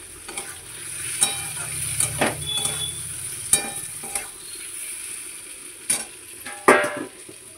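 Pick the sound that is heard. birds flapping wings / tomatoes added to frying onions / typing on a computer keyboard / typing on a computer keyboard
tomatoes added to frying onions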